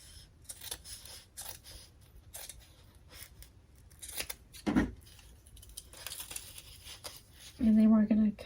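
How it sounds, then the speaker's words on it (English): Scissors snip and rustle through felt while making a horizontal swag wreath, soft close cutting and crinkling sounds with one sharper snip, as a person talks over much of it. "We're going to cut it right here."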